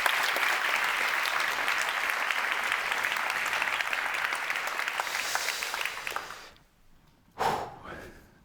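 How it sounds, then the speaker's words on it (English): Audience applause for a keynote speaker at a tech talk on future work skills, a sustained crowd clapping that fades out after about six seconds, followed by a brief breathy noise near the mic. "Big applause for Kathrin Möslein."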